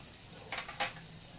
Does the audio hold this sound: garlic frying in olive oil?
yes